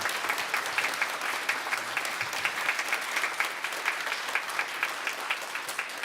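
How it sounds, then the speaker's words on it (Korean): A church congregation applauds through a Sunday worship service to welcome a missionary, steady dense clapping from many hands filling the hall, with no talking over it. "우리 선교사님 나오실 때 한번 힘차게 사랑의 박수로, 환영의 박수로, 격려의 박수로 맞이하겠습니다"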